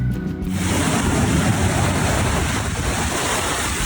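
Sea waves wash onto a beach in Turkey, a steady broadband surf roar with some wind noise, close and loud from start to finish without speech.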